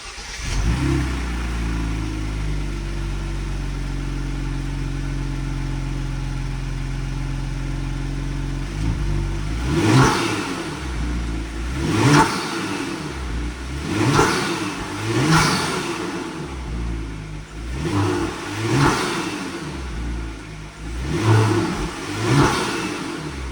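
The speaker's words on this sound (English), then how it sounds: "let's start this up and see what she sounds like." Genesis G70 fitted with BMS air intakes starts and idles steadily, then revs repeatedly in sharp loud bursts, each throttle blip rising and falling in a steady rhythm, close by with no talking.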